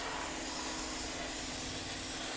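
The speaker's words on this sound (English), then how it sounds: "I'm just gonna start spraying from top to bottom once again." Pump sprayer at low pressure spraying coil cleaner inside a ductless mini-split indoor unit: a steady, close, unbroken hiss of spray that holds constant throughout.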